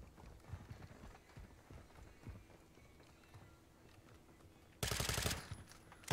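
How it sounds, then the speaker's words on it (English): Gunfire in Call of Duty Modern Warfare 2, rapid rattling bursts of distant shots under a muffled game background, ending in a loud close blast of noise. "Where the bullets coming from?"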